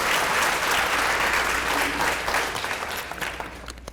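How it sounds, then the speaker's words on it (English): Audience applause at a book event, steady dense clapping from a large crowd that holds loud for most of the stretch and then begins to thin and fade near the end. "I didn't mean to make you applaud for that"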